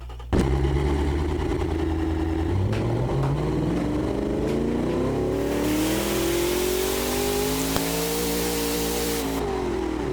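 A single-turbo car engine in the Automation game starts from idle and revs. Its pitch climbs steadily, and near the end a loud hiss swells up before dropping away, all alone and close.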